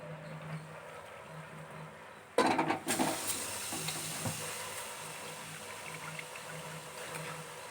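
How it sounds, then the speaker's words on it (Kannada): Rice poured into a pot of water for a fenugreek rice dish makes a sudden rushing splash after a quiet start, followed by settling bubbling and a soft wet hiss, close by with a faint low hum throughout. "ಈಗ ಅಕ್ಕಿ ಹಾಕೋಣ"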